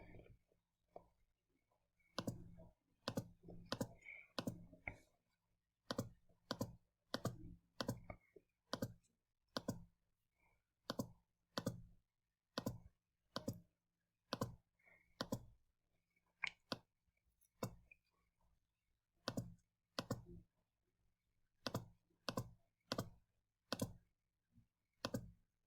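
Fingers press numbers on a calculator keypad, a long run of crisp, sharp clicks in quick bursts and irregular groups, close and clear against near silence.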